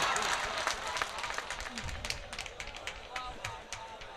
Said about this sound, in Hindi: जोरदार तालियों से इस्तकबाल करके बताएं भाई,